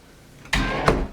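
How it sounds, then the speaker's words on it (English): An interior entryway door being closed during a home renovation, a sudden broadband shut with a sharp latch click partway through and a brief trailing rattle, close and fairly loud with no talking. "Let's see what it looks like when I close the door."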